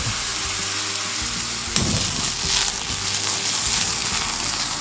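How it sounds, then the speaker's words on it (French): An Easter omelette is flambéed in a frying pan: a steady close sizzle breaks into a sudden whooshing flare of flame, then the sizzle continues with a rougher, crackling texture. No one speaks. "Elle était cuite, on va simplement la flamber."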